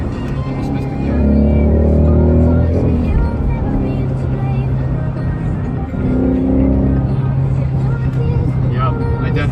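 A car engine revs and pulls during a test drive, its drone rising and falling around a gear shift, with people talking over it.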